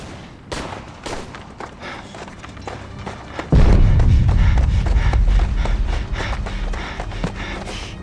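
Artillery fire in a Chinese war film battle scene, a continuous barrage of sharp blasts and thuds with a heavy low rumble surging partway through, loud and close.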